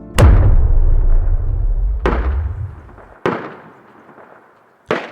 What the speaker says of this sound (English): heard distant gunshots, several in a row